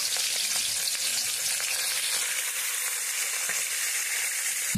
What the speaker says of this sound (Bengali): কড়াইয়ে তেল দিয়েছি, গরম হয়ে গেছে। এখন আমি মাথাগুলোকে দিয়ে দেবো।